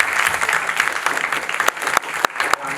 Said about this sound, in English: Give me a round of applause for that question